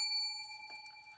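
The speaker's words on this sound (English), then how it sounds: "ring the bell." A small bell is rung once during a live crochet meeting, its clear tone sustaining and slowly fading over about a second.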